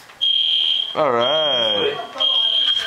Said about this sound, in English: Somebody pulled the fire alarm.